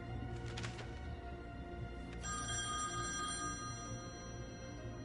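A telephone rings in short trilling bursts, two rings standing out over a low, steady background hum, fairly faint and with no one speaking.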